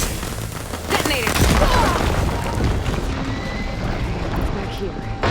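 A detonation explosion in Horizon Forbidden West: Burning Shores, a heavy boom with rumbling debris and ongoing game noise, with other sounds layered under it.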